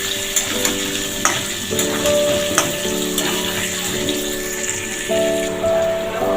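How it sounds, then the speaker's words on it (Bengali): Potatoes frying in hot oil with a little turmeric, cooked as the first step of a Bengali chicken curry. Loud, steady sizzling crackle runs throughout, with a few sharper pops and stir noises, and no talking. "আলুগুলো দিয়ে দেবো, আলুগুলো ভেজে নেবো।"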